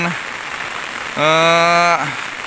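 Rain falls on a slippery outdoor path while someone walks under an umbrella, a steady hiss, with a brief sustained tonal sound rising over it midway.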